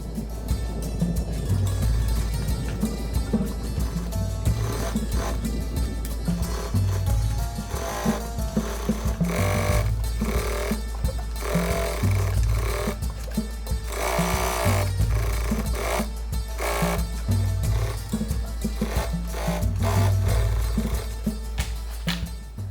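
Sewing machine running steadily while topstitching the upper edge of a fabric pouch, a continuous mechanical whir with rhythmic needle chatter and brief pauses, close and fairly loud, no talking.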